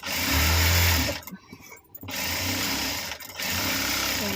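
An electric sewing machine runs double stitching on a crochet piece in steady bursts, a loud whirring hum that pauses briefly twice before starting again, with no talking.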